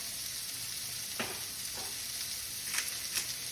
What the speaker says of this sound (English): Just kind of give it a stir, make sure it doesn't like get stuck to the pan